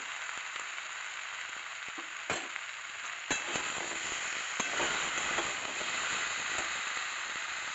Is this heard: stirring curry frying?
yes